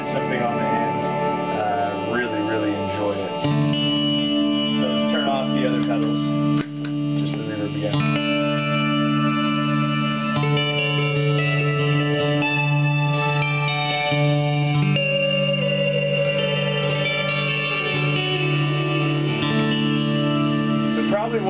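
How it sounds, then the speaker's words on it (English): Sustained, distorted guitar tones run through a Boss RV3 reverb pedal form a shimmering, modulated digital pad that swells and holds for the whole passage, with speech faintly underneath. "ended up doing something totally awesome by creating this little digital pad thing that you can stick on the end of your freezes."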